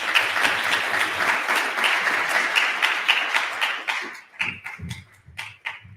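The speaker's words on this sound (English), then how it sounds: "Give him a round of applause, everybody." Audience applause at a live event, a room full of people clapping steadily and loudly for several seconds before it thins out into scattered, irregular claps near the end.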